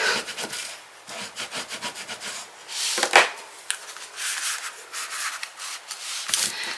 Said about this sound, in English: And then I'm gonna pull it down and burnish some more.